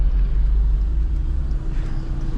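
A Hyundai Genesis Coupe 2.0T drones loudly from inside the cabin while driving, its deep engine rumble and turbo whoosh steady and dominant throughout, with no talking.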